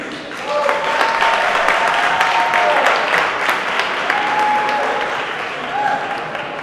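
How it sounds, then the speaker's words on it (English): Sustained, dense applause from a gala dinner audience at a university event, loud and steady throughout with a few faint tonal notes above the clatter. "please give yourselves a round of applause for being part of this amazing family"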